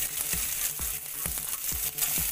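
Chopped small shallots frying in oil in a pan for mutton curry, a loud continuous close sizzle with light stirring clicks and scrapes throughout.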